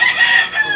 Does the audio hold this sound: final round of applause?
no